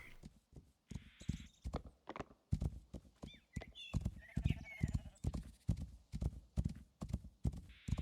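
A horse's hooves clip-clop on the ground in the building game Rising World, a quick rhythmic gait of sharp, close thuds with brief tonal animal or ambient sounds drifting over it.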